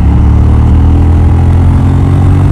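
A KTM 790 Duke parallel-twin motorcycle engine runs at a steady idle, a deep, even rumble that stays close and loud throughout, with no voices over it.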